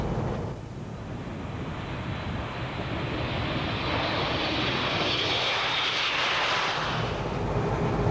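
Boeing 737 jet engines roaring at takeoff power during the takeoff roll and rotation, a loud, steady broadband roar heard from the flight deck that swells slightly in intensity with rushing wind noise.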